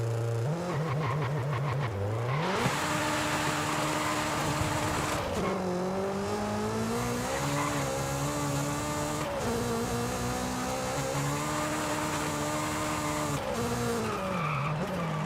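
A car in the racing game Forza Horizon 5 revs hard, its engine note climbing through gear changes as tires squeal and skid continuously, loud and sustained throughout.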